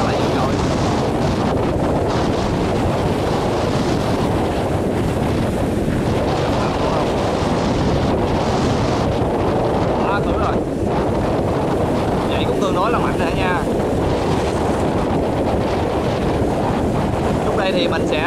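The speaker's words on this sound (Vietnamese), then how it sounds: "Và hôm nay biển động thì rất là dữ dội." Rough, stormy sea and strong wind are heard from aboard a boat: a dense, continuous roar of gusts buffeting the microphone and crashing water. Faint voices come through underneath.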